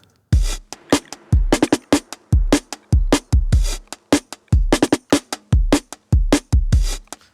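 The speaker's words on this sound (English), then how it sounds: "I made one part of the drums sound dirty and distorted and heavily compressed" A punchy, gritty drum beat with crushed, distorted hits repeating in a steady groove, loud and dense with no voices.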